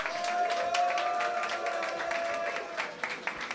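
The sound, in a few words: audience applause for the organizers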